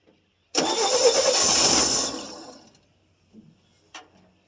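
A 1966 GMC inline-six fires up after sitting for at least two years, a loud broadband crank-and-catch roar that runs about a second and a half, then fades into a rough idle with a couple of faint knocks after.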